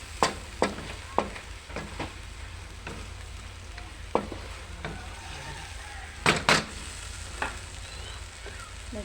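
Shrimp heads spit and crackle in a pan under a steady frying hiss, with sharp pops and clacks of a utensil scattered throughout, close and fairly loud, with no talk.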